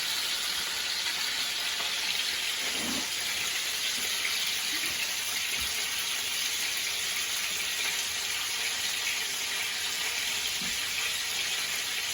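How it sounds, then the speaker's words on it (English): Hands rinse under a running kitchen tap while making Italian ragù, a steady, close rush of water that runs without pause, with a few faint soft knocks beneath it. "Rinse my hands again."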